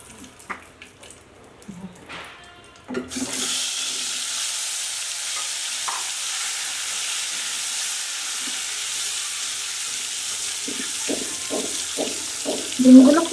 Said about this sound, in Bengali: এখন ডিমগুলো এই তেলের মধ্যে আমি ছেড়ে দেব